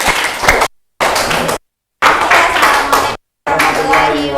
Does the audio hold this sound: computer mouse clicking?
no